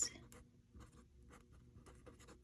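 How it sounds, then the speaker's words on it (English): Pen or pencil writing out an equation, faint scratchy strokes coming in short irregular bursts with quiet gaps between them, close to the microphone. "let's just write this out right here."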